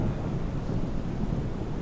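A thunderstorm rumbles at an airport in a flight simulator, a loud, low, continuous roll of thunder with rain noise beneath it, steady with no break and no talking.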